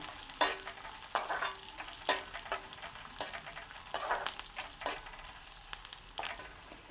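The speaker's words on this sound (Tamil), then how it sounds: "தாளிதம் வந்து எங்களுக்கு ரெடி ஆகிடுது." Onions and dried red chillies sizzle in hot oil for a tempering, a steady frying hiss broken by repeated stirring scrapes and small pops, close up with no talk.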